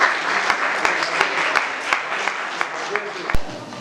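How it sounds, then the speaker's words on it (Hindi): Audience applause at an interfaith Christmas gathering in a press club, with distinct individual claps standing out over a continuous patter, and a voice carrying faintly underneath. "आपकी तालियों में भाई आए सामने।"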